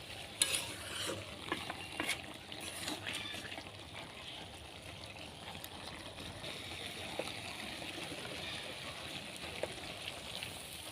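Snakehead fish curry with potato, tomato, long beans and toasted cumin is stirred and sautéed in a pan, with a soft steady sizzle and faint scraping and stirring noises throughout.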